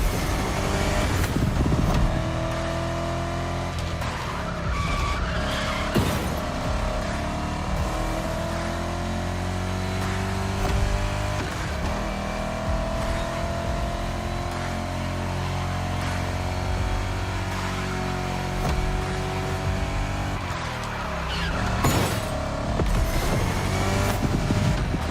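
Race car in a video game roaring steadily with revving engine tones that climb and fall, plus skidding and gear shifts, loud and continuous from start to finish with no talk.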